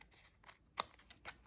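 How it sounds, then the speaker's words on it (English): Scissors trim the overhanging paper edge on a craft project: about four quiet, crisp snips spaced irregularly, close by, with no talk. "So I'm going to take my scissors and just cut"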